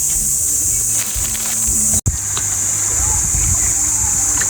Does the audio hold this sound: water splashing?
yes